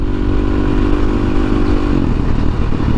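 A motorcycle speeding past on a desert road, its loud engine and rushing wind filling the whole stretch with a steady, dense roar and no voices.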